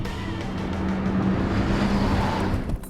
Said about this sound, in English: you can actually put your foot into it enough that either get a four-wheel drift or maybe even bring the back around